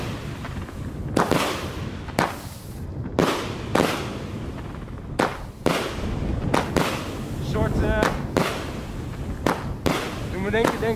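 Repeated sharp firework bursts crack in a loose rhythm from a 19-shot cake, about a dozen shots with crackling tails and whistling trails, moderately close, over steady wind noise.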